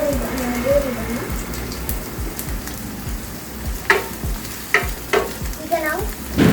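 Onions sizzle and crackle in hot oil in a pan for a fish green masala, a steady dense frying hiss with a few louder pops and stirring clinks close by.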